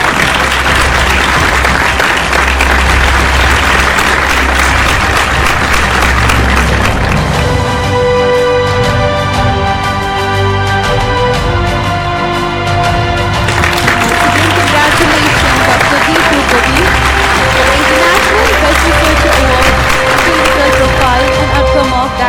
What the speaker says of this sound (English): A big round of applause for the award winner